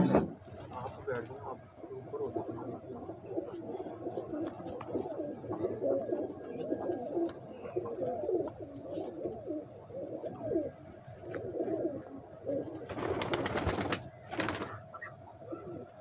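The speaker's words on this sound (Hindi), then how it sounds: "गुस्सा कर रहे हैं जी कबूतर" Agitated Sialkoti pigeons coo repeatedly in low, rolling phrases, close and fairly steady, while someone talks over them and a brief clatter rises near the end.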